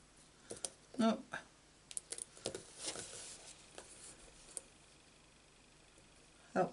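Scissors snip small paper pieces for stamping, with scattered crisp clicks and rustling handling noises, close and quiet, plus a soft thump at the end.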